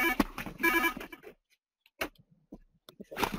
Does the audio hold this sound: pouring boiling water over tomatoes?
no